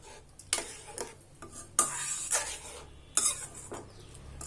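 Rava phirni payasam thickening in a pot as a spoon stirs it steadily, each sweep making a scraping, bubbling swish at an uneven rhythm, with light metallic clinks between strokes.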